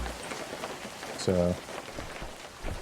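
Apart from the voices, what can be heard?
rain falling in an Animal Crossing Wild World knockoff video game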